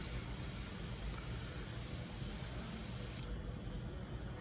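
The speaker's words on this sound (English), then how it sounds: "If you notice where I'm spraying, it comes out nice and smoothly." An airbrush sprays paint in a smooth, continuous close hiss that cuts off abruptly near the end, leaving a quieter background.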